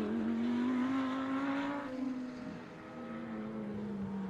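A Production Sports race car at a New South Wales motor racing championship round roars past, engine note rising then dropping away, loud and close before fading slightly.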